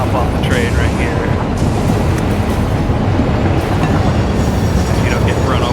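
A train rumbles past in the factory-building video game Satisfactory, a loud, steady roar with rolling clatter that fills the whole stretch without a break.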